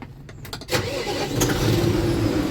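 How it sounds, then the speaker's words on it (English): A farm tractor engine cranks with a few quick clicks and turns over, then catches and settles into a steady, fairly close running rumble. "Start this tractor up while I'm over here."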